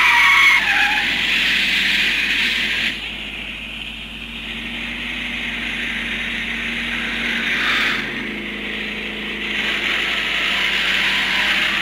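Tires skid and squeal during a car chase in an action film, a loud sustained screech with engine roar that swells, dips and rises again, with no talking.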